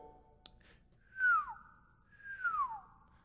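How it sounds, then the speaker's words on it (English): A performer in a stage musical whistles twice, each a clear descending glide about a second apart, heard fairly quietly in an otherwise hushed hall. "She shuffled and shuffled, then whistled twice"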